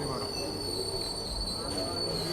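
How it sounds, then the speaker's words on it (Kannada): A Varanasi–New Delhi Mahamana Express train departing, wheels squealing in a steady high-pitched whine on the rails, with low rumble of the moving carriages underneath. "train depart ಆಗತ್ತೈತ್ರಿ"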